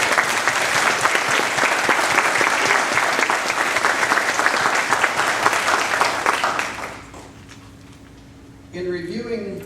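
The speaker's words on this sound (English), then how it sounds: "Would you please give him a round of applause celebrating?" Audience applause at a medical school white coat ceremony, a loud, dense and sustained clapping crowd that fades out after about seven seconds, followed by a brief quiet and then a voice speaking.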